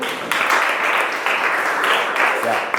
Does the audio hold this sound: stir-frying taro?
no